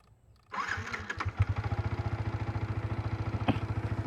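A Yamaha MT motorcycle engine cranks and fires up, then settles into a loud, steady, chugging idle close by.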